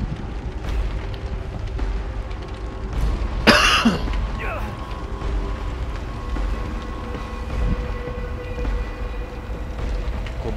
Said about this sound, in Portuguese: Vou tomar uma aguinha que já começou a tosse